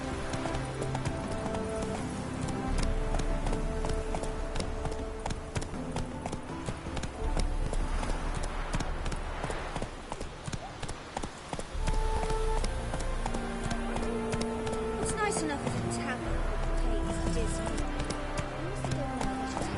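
Rapid hoofbeats of a horse galloping in a PS4 video game drum steadily for the whole stretch, mixed under a dense game soundtrack and background effects, with occasional voices.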